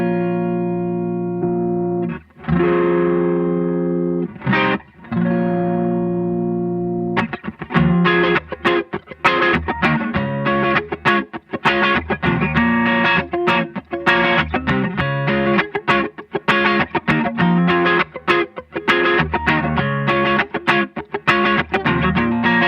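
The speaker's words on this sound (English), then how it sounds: "my light overdrive, I like to use a Blues Breaker style pedal" An electric guitar plays through mild overdrive from a Blues Breaker style pedal, starting with a few sustained chords, then a steady run of driven strummed and picked notes.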